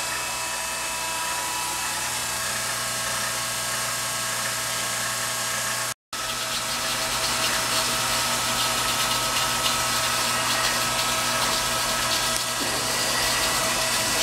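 Domestic water booster pump on a 1 1/2 inch water main, running with a steady mechanical hum and whine, constant and fairly close, briefly cut once partway through, no talking.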